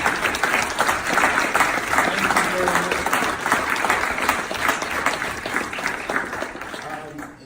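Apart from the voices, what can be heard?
round of applause for scholarship recipients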